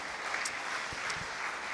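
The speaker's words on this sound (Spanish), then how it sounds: "Denle un aplauso al Señor porque Él es bueno." A church congregation gives brief applause to the Lord, a continuous, moderately loud clatter of hands with a few low thumps in the room.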